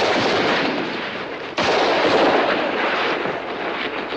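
Gunfire rings out in a western film shootout: a dense, loud burst of revolver shots and echoing reports, with a sharp new crack about halfway through and the volley continuing without any talking.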